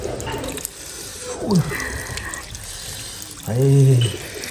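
A water tap runs in a village home on a cold morning, a close, splashing flow that swells louder near the end, with someone speaking over it.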